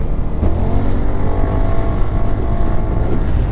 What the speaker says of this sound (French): Je vais vous tester le freinage.